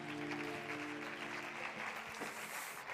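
An audience at a carnival gala applauds, quiet and distant steady clapping with a held musical tone underneath.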